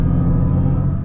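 The artificial driving sound of a Mercedes EQS53 AMG electric car is a loud, smooth, low synthetic drone heard from inside the cabin, holding steady for about a second without speech.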